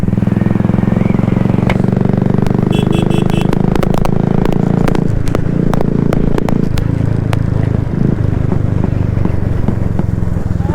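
A motorcycle on its first ride after lockdown, the engine chugging loudly and continuously with wind rush and mechanical clatter, steady from start to finish.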